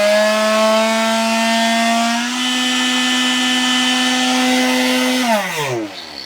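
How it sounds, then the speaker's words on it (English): A kitchen blender runs on high from a Bluetti Elite 200 V2 portable power station in an RV setup. Its loud, steady motor whine holds alone, steps up slightly in pitch partway through, then winds down at the end. "a very common item I like to use, the blender. Let's just throw it on high."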